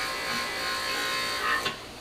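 A coarse buffing wheel polishes a hubcap from a 1966 Ford Galaxie 500 convertible, giving a steady close whirring rub that swells briefly near the end, with no talking.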